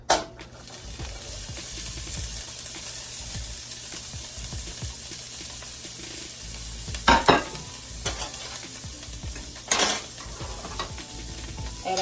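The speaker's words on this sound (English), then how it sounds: "our olive oil is nice and heated. So we're going to add our corn." Corn tipped into hot olive oil in a pan and stirred, giving a steady close sizzle with brief louder scraping and stirring bursts partway through and near the end; no talking.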